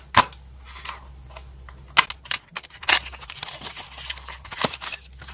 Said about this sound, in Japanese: 開封する際は、この部分、タグのようになっているところを引っ張って開封します。